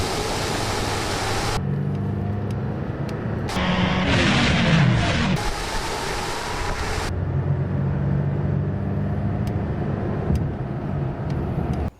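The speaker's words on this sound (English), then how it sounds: "I'm gonna do a little highway pull, 30 to like the speed limit" A Chevrolet Colorado Duramax diesel pickup, a ZR2, pulls onto a highway from about 30 mph, its engine and road roar holding loud and steady for several seconds with no talking.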